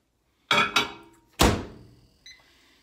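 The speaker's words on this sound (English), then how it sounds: "Into the microwave." A microwave oven door is handled with two quick solid thunks, then a louder slam shortly after. Faint electronic beeps from the keypad follow in a quiet room.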